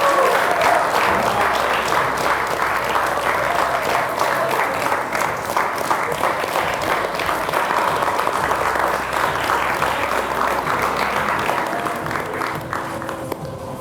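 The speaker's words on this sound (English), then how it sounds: "these people will go mad clapping for you" An audience claps loudly and steadily after a mind reader's correct guess at a live show, dense crowd applause with some cheering, fading slightly toward the end.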